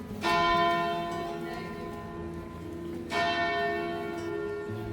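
Church bells in the Salzburg region, Austria, ring out loudly with long, shimmering overtones, a fresh peal striking again partway through and ringing on.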